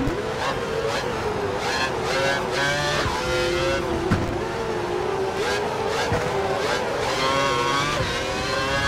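Formula 1 race cars in the F1 2012 video game at Silverstone, engines screaming with rising and falling gear-shift whines, multiple cars close together and tyres squealing throughout.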